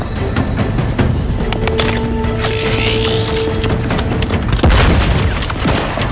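A grenade goes off in the video game Outer Worlds 2, a loud booming blast amid dense game sound effects, with a strong low-end thump near the end.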